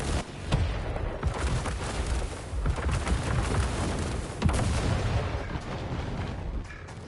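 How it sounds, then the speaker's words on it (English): Missile impacts in the mech combat game War Robots: Frontiers, a rolling series of heavy booms and blasts with rumbling low end, fairly loud and continuous with a few sharper hits standing out. "Those missiles actually hit."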